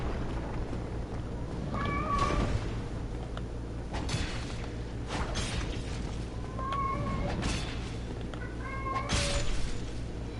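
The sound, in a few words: cat meowing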